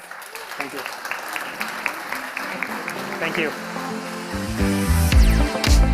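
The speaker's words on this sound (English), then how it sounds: "let's give him a big round of applause" A conference audience bursts into applause, the clapping building steadily while someone speaks briefly over it, with louder low thumps near the end.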